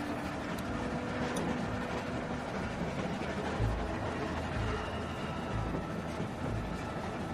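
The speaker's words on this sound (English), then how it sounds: "Stop the train." A train rolling along rails in The Walking Dead video game, a steady low rumble with dull periodic thumps of wheels over track joints, continuous and moderately loud with no talk.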